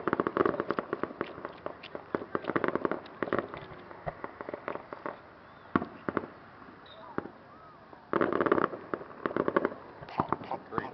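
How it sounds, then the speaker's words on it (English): Canada Day fireworks in Saskatoon crackle and pop in rapid clusters, some sharp distant bangs between them, with quieter gaps and occasional voices. "I think those fireworks there, those big ones"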